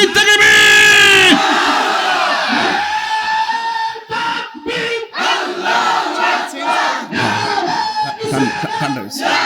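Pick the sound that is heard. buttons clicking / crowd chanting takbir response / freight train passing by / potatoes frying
crowd chanting takbir response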